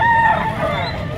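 A rooster crows once, loud and close, at a busy chicken market in Padre Garcia, Batangas, a drawn-out call over a murmur of background noise.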